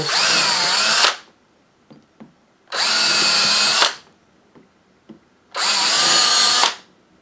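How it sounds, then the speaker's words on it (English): Three loud bursts of a power drill whirring as it bores pilot holes in a wooden soap mold, each about a second long, separated by quiet gaps with small clicks and handling knocks. "let's drill out some of these holes,"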